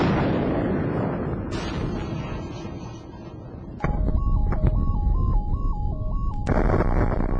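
A demonstration blast against an untreated cinder block wall: a loud, sustained roar of rumbling and debris. A steady electronic tone sweeps up and down through the second half.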